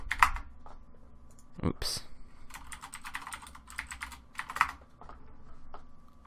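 A passphrase is typed on a computer keyboard in a run of close, crisp, irregular keystroke clicks, with a few brief spoken words over them.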